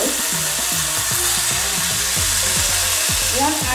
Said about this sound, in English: Place your bacon slices into the